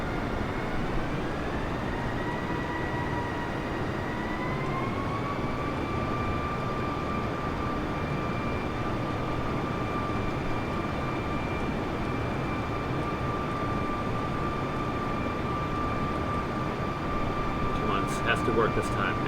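Airbus A320 cruising in Microsoft Flight Simulator, a steady broadband engine and cabin drone with a faint rising tone early on, continuous and even throughout.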